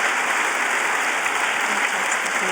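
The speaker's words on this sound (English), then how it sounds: "It's well-deserved applause." Audience at an event with the UN Secretary-General applauding, a steady, even wash of clapping throughout, fairly loud and without pause.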